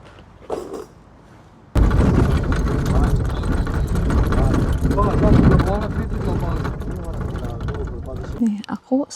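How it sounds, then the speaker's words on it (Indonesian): A bus engine rumbles loudly on a windy rural road in an Eastern European village in November, a low steady drone starting abruptly after a short quiet gap, with people talking. "Ini bus aku nih."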